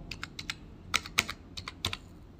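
A wallet PIN is tapped out on a computer keyboard: about a dozen quiet, irregular key clicks with a few sharper presses, close by in a hushed room.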